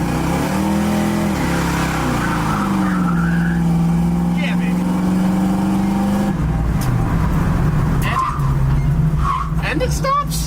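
A refurbished car running close to overheating drives a short distance, its engine note rising and falling in steady harmonic bands, with a loud rev and rattling noises late on and a voice speaking over it.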